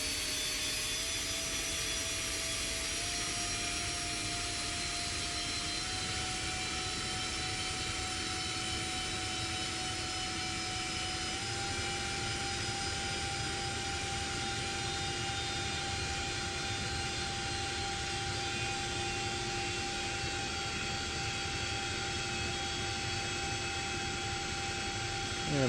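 Twin turbine engines of a CH-47D Chinook helicopter in the X-Plane 11 flight simulator whine steadily and loudly, their pitch climbing slightly as they spool up toward flight RPM, with no talk.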